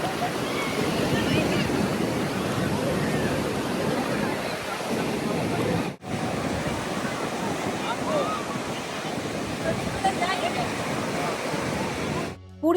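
Sea waves break on the beach at Puri, a broad, continuous surf roar with wind buffeting the microphone, dropping out briefly midway and swelling again.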